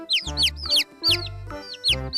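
A toy chicken switched on emits three electronic crowing calls, each a squeaky, high-pitched rooster cry over a short buzzing tone, repeating at roughly one-second intervals.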